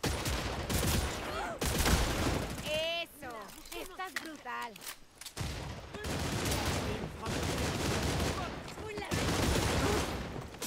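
Gunfire in the Redfall video game, a vampire-infested town setting, comes as dense, sustained bursts filling most of the stretch, with a brief quieter gap midway where a voice speaks over tonal sounds.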